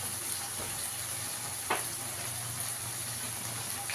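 Turmeric, Kashmiri chili powder, coriander and cumin powders sautéing in a pan give a steady, faint, hissing sizzle, with a few soft stirring scrapes and no talking.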